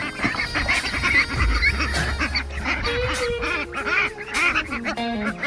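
A group of ducks quacking and honking in a busy, overlapping chorus while being fed outdoors, close and lively throughout, with a low rumble underneath.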